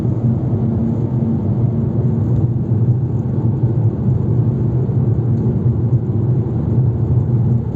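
A Fiat Egea Cross 1.4 in fifth gear around 3,500 rpm labours up a steep mountain road at about 112 km/h, its engine giving a steady, loud, even drone of low rumble and road noise without talk.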